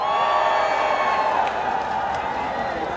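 Rally crowd at an outdoor presidential campaign event in Cheongju cheering and whooping with a broad, steady roar, loud and sustained for the whole stretch, easing slightly midway.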